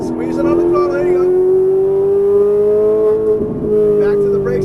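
Ferrari 458 Italia engine on a track holding a steady, slowly rising tone as the throttle is squeezed, with a brief dip partway through, loud and close, with a voice talking over it.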